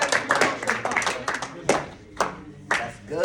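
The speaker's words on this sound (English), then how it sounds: "Clap it up for Lamar" Scattered clapping from a group at a community event, a few bursts of claps mixed with voices talking, irregular and moderately close rather than sustained applause.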